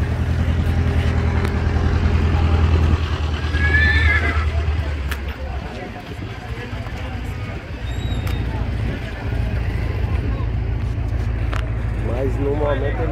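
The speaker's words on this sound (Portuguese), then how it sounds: "Esses cavalos são de mestre Marco." Horses whinny and neigh at a busy outdoor horse fair in Cachoeirinha, Pernambuco, with hooves clip-clopping, an engine rumbling and people talking nearby throughout.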